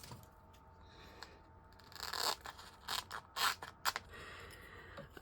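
A handheld gyro-cut craft cutter slices off a section of crafting material. Faint scratchy cutting strokes come in a quick cluster of short bursts against a quiet background.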